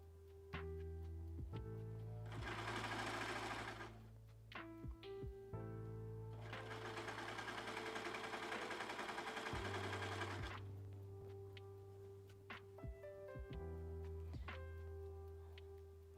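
A home sewing machine runs a straight stitch in long steady bursts with brief pauses between, its motor whirring and needle clattering rhythmically, close and clear with no talking.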